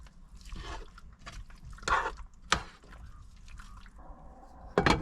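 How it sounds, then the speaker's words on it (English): Fennel-heavy sausage is stirred in a cooking pot at a riverside van campsite, giving soft wet squishing and sizzling with a few sharper scraping clicks of the utensil, fairly quiet and close. "Stir it up real good."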